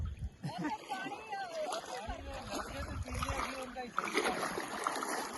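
Water gushes and splashes from a running hand pump at a flood-relief site near the Ravi River, a steady wet splatter heard close by beneath almost continuous talk from several people.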